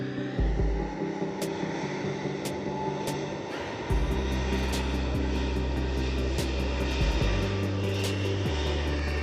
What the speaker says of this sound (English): Philippine Airways now lining up with their service heading over to Manila with the A321neo.